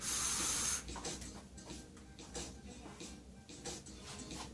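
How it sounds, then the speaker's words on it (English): Sexy Hair Get Layered flash-dry hairspray gives one close, sharp hissing burst lasting under a second onto curled hair, followed by quieter rustling and handling sounds. "I'm going to spray it with the Get Layered."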